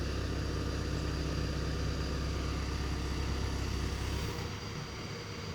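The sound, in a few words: four-cylinder car engine running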